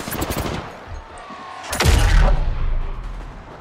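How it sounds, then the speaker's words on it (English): Gunfire in the Apex Legends video game while the player is under attack: rapid bursts of shots up close, then a heavy booming impact with a low rumble trailing off. "Being shot at."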